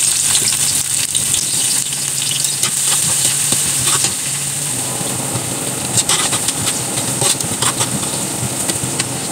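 Onion sautés in a hot pan for a simple home-style Filipino dish, giving a loud, continuous close-up sizzle with frequent clattering stirs and scrapes of a spatula; no voices are heard.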